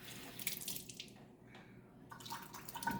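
A tablespoon of water is poured into chocolate chip brownie batter in a home kitchen, giving a brief close trickling splash that pauses and then resumes.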